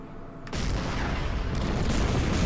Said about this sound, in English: And now the artillery from over here can open fire.